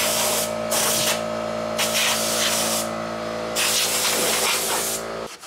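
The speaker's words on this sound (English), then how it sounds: "Now, we blow all the crap out of here with some compressed air." Compressed air blasting debris out of the body of a 1967 Dodge Dart under restoration, heard as loud, close hissing bursts separated by short pauses, over a low steady hum.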